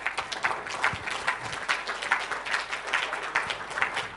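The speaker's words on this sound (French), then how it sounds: "Je vous demande de l'applaudir, j'espère qu'il est là, André-Yves" An audience applauds a guest at a French talk event on future living, a moderate, steady patter of many hands clapping from a short distance, without voices over it.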